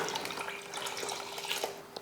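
Water runs steadily from a tap into a kitchen pot, about three litres, a continuous splashing gush with bright, bubbling spatter, heard close and alone for a couple of seconds.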